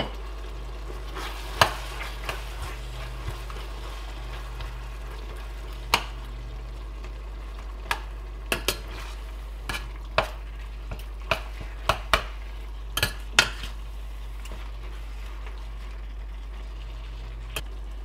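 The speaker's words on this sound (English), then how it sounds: "Just allow those onions to start getting soft and fragrant." Onions softening in a pan for a chilli dish give a quiet, steady sizzle, with occasional sharp taps and clicks of a utensil scattered over it, close but soft, with no talking.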